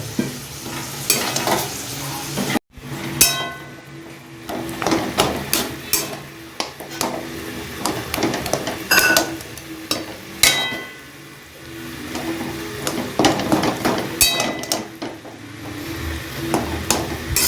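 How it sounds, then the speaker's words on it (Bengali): Gati kachu (taro) being stirred and mixed in a cooking pan, with repeated close scraping and clinking strokes over a steady sizzle of frying, with one brief sharp knock early on and no talking. "সব কিছু ভালো করে মিশিয়ে নিচ্ছি।"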